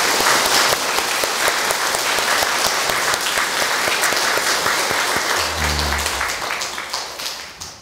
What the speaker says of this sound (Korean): 다시 한번 박수 칠까요?